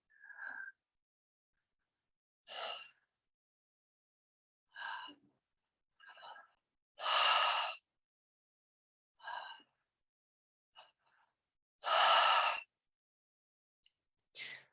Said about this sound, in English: For the last few minutes of active breathing, just to become very engaged in this process.